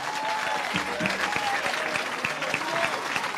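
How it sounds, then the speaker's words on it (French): Congregation clapping hands during a deliverance church service, a steady mass of applause held throughout under a sung or spoken voice line, fairly loud and close. "Give a hand clap unto the Lord."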